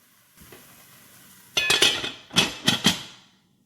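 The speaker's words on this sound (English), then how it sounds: "we want to stir and cover at this point" A spoon stirring yellow rice with luncheon meat in a metal pot: a faint scrape, then several loud clattering scrapes and knocks in quick bursts, close and without voices.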